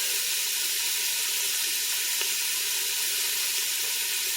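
A pot of chicken and broccoli soup base sizzles steadily while cooking, a constant bright hiss with no speech over it and one faint click partway through.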